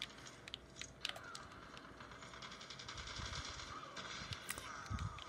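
Gunfire and a grenade blast from the mobile shooter Call of Duty Mobile, played with an iPhone mounted on a PS4 controller: rapid clattering shots and sharp bursts over a steady rumble of game audio, with a louder impact near the end.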